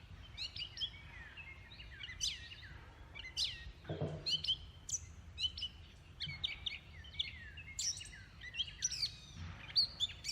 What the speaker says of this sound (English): More birds than banging.